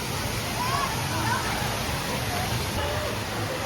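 A large tipping bucket at the Imagicaa water park pours water in a constant loud rushing, splashing roar that continues without a break.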